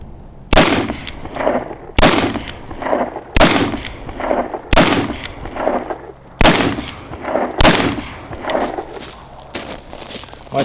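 Six loud, sharp shots from a Colt single-action .45 revolver fired one-handed with thumb cocking, evenly spaced roughly every one and a half seconds, each with a ringing decay and no talk.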